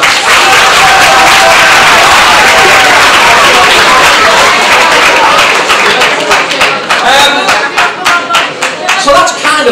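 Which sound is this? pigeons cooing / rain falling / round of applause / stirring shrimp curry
round of applause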